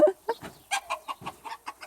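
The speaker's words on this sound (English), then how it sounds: "I don't think your roosters realize what time it is." A rooster clucks in a quick series of short, sharp bursts at a farm animal sanctuary, close by and fairly loud, with quiet pauses between each call.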